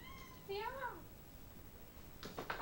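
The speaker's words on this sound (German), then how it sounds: "jetzt ist gerade mein Kater hier dazu gekommen" A male house cat gives two short meows indoors, a drawn-out one near the start and a sharper one at the end, close and clear over a quiet room.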